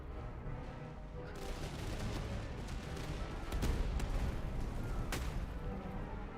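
Canister fire from Civil War–era artillery and musket lines in Master of Command, a continuous rumbling roar of volleys with a few sharper booms standing out, sustained at moderate level throughout.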